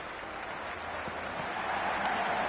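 Steady stadium crowd noise from a PS5 cricket match between Sydney Sixers and Melbourne Stars, a continuous broad roar and murmur at even volume throughout, with no single standout cheer.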